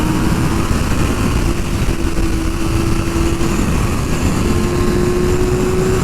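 A 2024 Kawasaki Ninja ZX-6R 600 sport bike at speed on a racetrack, its engine holding a high steady drone with a slowly rising pitch, loud and constant under rushing wind, no talk.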